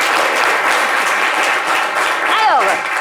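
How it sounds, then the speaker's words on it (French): A studio audience on a midday radio or TV show claps loudly and densely for a caller, with voices talking over the clapping near the end. "Applaudissez pour monsieur Zorobi."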